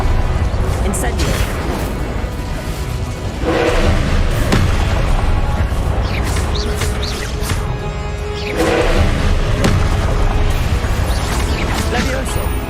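Spell blasts and fiery bursts from magic combat in the Hogwarts Legacy video game, recurring booms every few seconds over a dense, continuous roar of game effects, with a voice shouting spell incantations throughout.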